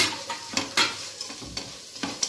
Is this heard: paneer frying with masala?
yes